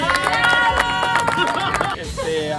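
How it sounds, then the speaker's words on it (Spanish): An audience at a theatre awards ceremony breaks into applause, dense clapping mixed with crowd murmur and cheers, loud and close, fading slightly near the end. "¡Un aplauso!"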